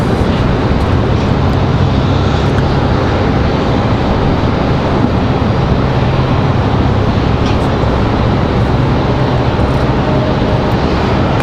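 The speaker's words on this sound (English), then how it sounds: "Possible turn and burn here for the MAX 8 for American Airlines." American Airlines Boeing 737 MAX 8 at Raleigh-Durham International Airport, a steady loud broadband jet roar sustained evenly throughout with no voices.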